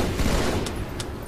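Rapid gunfire in a Halo 2 multiplayer match on the Containment map, a dense continuous volley with two sharper cracks standing out near the end.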